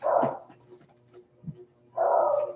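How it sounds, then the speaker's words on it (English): A dog barks twice, loud and fairly close, with a brief pause and a small yip between the two sharp barks. "That dog barking."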